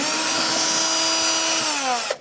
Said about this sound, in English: bit on my drill, we can take these 3 out.